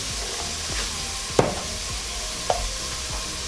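Tomato paste seasoned with salt and thyme fries in a pan over medium-high heat, a steady low sizzle with a couple of sharp scraping clicks from stirring.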